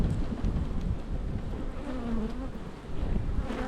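A steady, dense hum of honey bees buzzing around an open hive, continuous and fairly loud with a soft wavering drone, no talking.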